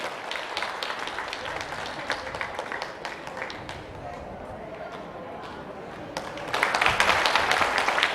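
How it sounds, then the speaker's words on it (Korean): An audience at a Korean Singers Association Incheon branch event claps for the branch president, scattered applause continuing under an announcer's voice, then swelling louder and denser toward the end. "큰 박수 한번 보내주세요"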